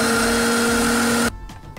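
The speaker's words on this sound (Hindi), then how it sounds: "आइसक्रीम डालने के बाद कुछ सेकंड्स के लिए ग्राइंड कर लेंगे।" A blender grinds papaya shake with strawberry ice cream for a few seconds, a loud steady motor whine that cuts off abruptly near the end, leaving a quiet room.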